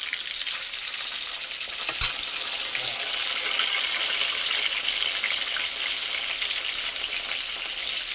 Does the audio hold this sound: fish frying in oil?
yes